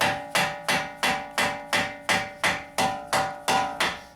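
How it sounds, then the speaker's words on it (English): A plastic hammer strikes a Honda Civic CV axle in a steady rhythm, about a dozen evenly spaced blows, each ringing briefly before the next, close and clear. "I'm using a plastic hammer so we don't deform it"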